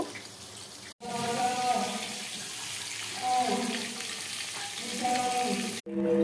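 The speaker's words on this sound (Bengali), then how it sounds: "তো সেই মাছ ভাজাই এখন চলছে" Pieces of aar fish frying in hot oil in a home kitchen, a continuous close sizzle and bubbling with brief gaps where the sound cuts out, no one talking.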